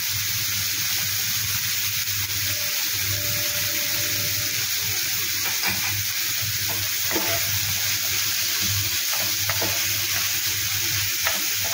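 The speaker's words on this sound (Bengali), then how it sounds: "এবার এটা ভাজা ভাজা করবো," Ingredients for a rich chana dal frying and being stirred in a pan, a loud steady sizzle with repeated spatula scrapes and clinks across the whole stretch.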